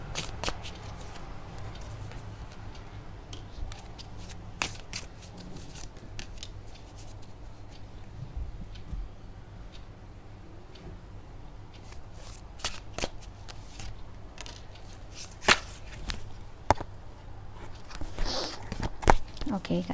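Tarot cards are shuffled and handled in steady riffling, papery bursts with a few louder snaps near the end, heard close up and alone without talk.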